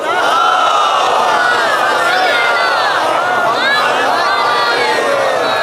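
A large crowd at a religious gathering loudly recites salawat in unison, a dense sustained wall of many voices rising and falling together throughout.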